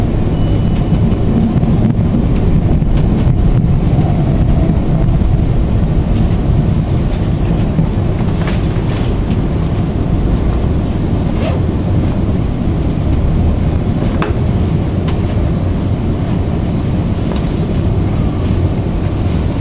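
A Trans-Pennine Express train to Newcastle runs with a steady, loud rumble of wheels and carriage noise that holds evenly throughout, with occasional faint clicks and rattles over it.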